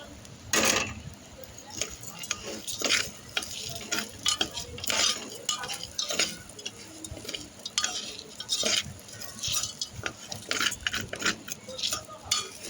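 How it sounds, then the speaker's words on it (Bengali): Lentils and rice being stirred in a pot for butter khichuri, with repeated scraping and clinking of a spoon against the pot and a light sizzle throughout, close and fairly busy. "প্রথমে সব রকম ডাল দিয়ে একটু নেড়ে নিচ্ছি। এবার চালটাও দিয়ে দিলাম।"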